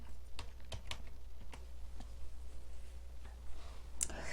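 Close, crisp keystrokes on a computer keyboard tap out a short entry in quick irregular bursts, with a brief pause before a final sharp key press, all over a low steady hum.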